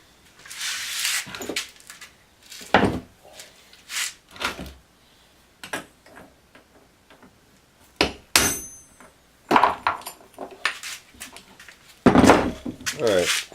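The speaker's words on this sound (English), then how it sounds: "I'm just going to get a small socket, put it right in there, and I'm just going to tap this out" A small socket is tapped with a hammer to drive a bearing out of its holder on a Porter-Cable 7539 router, giving sharp, close metallic knocks in irregular bursts with pauses, while someone talks in between.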